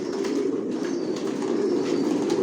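Racer pigeons in a loft coo continuously in a low, steady murmur, several birds overlapping with no pauses and no talking.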